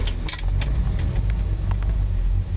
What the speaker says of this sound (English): She's got a rebuilt 289. Fires right up.